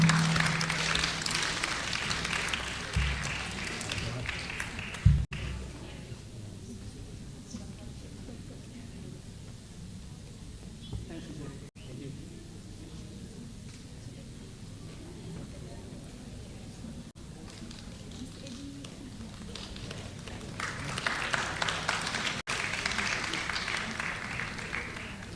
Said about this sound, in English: let us all give our full attention and a warm round of applause to Encik Mokhtar bin Wahid